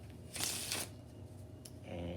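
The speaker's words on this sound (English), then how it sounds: "And here's the 3rd riffle shuffle." A deck of playing cards is riffle shuffled close up, giving a quick crisp burst of fluttering cards followed by a short tap as they square together.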